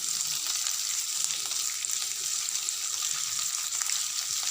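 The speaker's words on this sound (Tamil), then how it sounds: "இப்போ இந்த வெங்காயமும் பூண்டும் நல்லா கோல்டன் ப்ரௌன் கலரில் வர வரைக்கும் மீடியம் ஃப்ளேம்லேயே வச்சு வதக்கிடுங்க" Onion and garlic sauté in oil over a medium flame for an Indian beans dish, giving a steady, close, dense sizzle with faint stirring that runs without pause.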